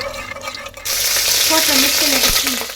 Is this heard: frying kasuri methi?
yes